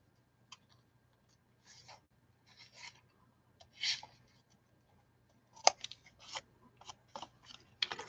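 Scissors snip through a paper leaf cut-out during card making, a series of short crisp cuts at close range, sparse at first and then quicker and more clustered toward the end, over a quiet background.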